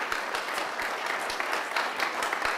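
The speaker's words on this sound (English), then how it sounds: "let's give a round of applause" Audience applause at a university graduate research presentation event, a steady wash of many hands clapping throughout, fairly close and even in loudness with no talking over it.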